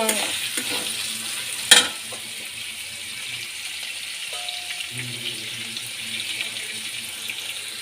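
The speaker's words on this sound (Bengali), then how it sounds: "বাটার মশলাটা দিয়ে কিছুক্ষণ কাঁচা গন্ধ যতক্ষণ না যাবে ততক্ষণ নেড়ে যেতে হবে" Ground spice paste fries with onions and oil in a pan for a Bengali fish-head curry, a soft continuous sizzle under repeated scraping stirs, with one sharp utensil clink early on, close and without talk.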